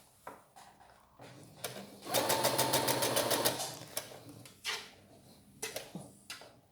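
A sewing machine runs a straight stitch through fabric in one rapid burst of rhythmic needle clatter lasting about two seconds, framed by quieter handling clicks and thumps of the presser foot and fabric before and after.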